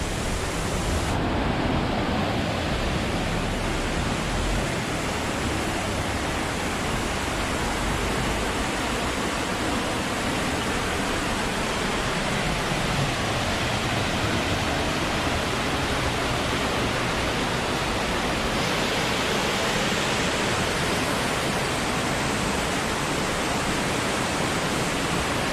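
A waterfall in the Bababudangiri Hills roars close by as a steady, dense rush of falling water. It is loud and unbroken throughout, with no voices.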